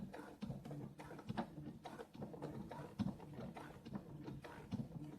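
A sewing machine runs a back-and-forth stitch through the heavy, thick fabric of a work jacket, a steady rhythmic mechanical clatter with repeated short bursts, close and moderately loud with no talking.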